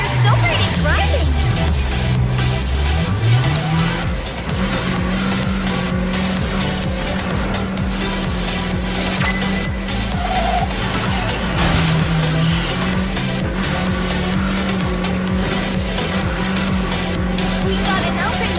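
A car races through the video game Neverness to Everness, its engine droning loud and steady with tire squeal and skidding throughout, and game voices and music running underneath.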